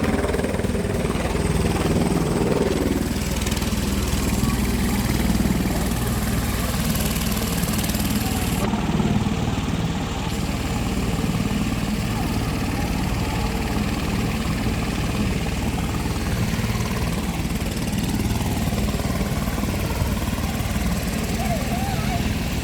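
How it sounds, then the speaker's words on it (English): A helicopter on a scenic flight at Warrnambool, a loud, constant engine and rotor drone that fills the whole stretch with barely any change, with people talking over it. "helicopter."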